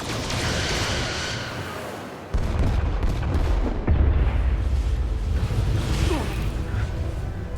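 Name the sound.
starship torpedoes firing in video game Star Trek: Resurgence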